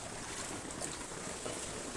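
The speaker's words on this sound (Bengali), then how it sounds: "এই যে হুড়ুড় করে জল আসছে এখান থেকে" Floodwater gushing into a house through a crack in a wall or door during a flood, a steady rushing wash of water that stays loud and even throughout.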